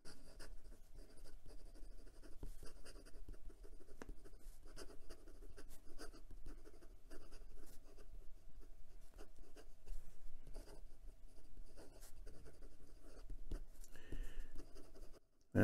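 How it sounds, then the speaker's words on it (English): A fountain pen, a Penbbs 323 in mocha aluminum, writes quickly across paper, giving a steady close, dry scratching with continuous pen strokes and no voice. "And some quick writing."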